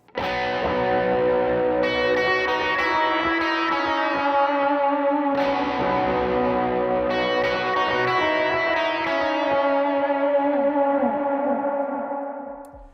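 Distorted electric guitar chords ring out with a dotted delay repeating the notes, a melody woven over strummed chords, sustained and loud, fading out at the end.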